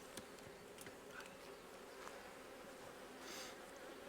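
Bees swarm around an opened beehive, a steady, faint insect buzz with individual bees droning closer and louder now and then, no voices over it.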